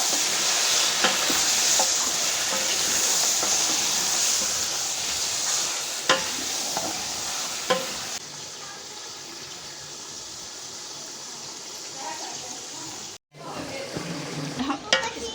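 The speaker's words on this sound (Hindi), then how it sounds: "चिकन को हम अच्छी तरह से भून लेंगे।" Chicken being fried in a pan for biryani gives a loud, continuous close sizzle, with occasional spatula scrapes and a brief cutoff near the end before the frying noise returns.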